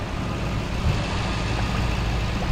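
A car engine idles smoothly with no exhaust leaks, a steady low rumble held close and even, with no revving and no voices.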